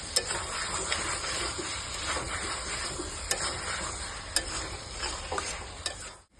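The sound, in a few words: stirring meat curry in a pan after adding turmeric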